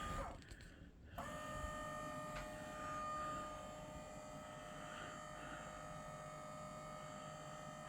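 A SMOROBOT Tank X1C cordless robotic pool vacuum for inground pools whirs steadily after a brief quieter start, a continuous motor hum with faint tonal whine that holds at an even level throughout.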